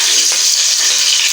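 Chopped onions sizzle steadily in hot ghee in a cooking pot for a matar pulao, a close, continuous bright frying hiss with no talk.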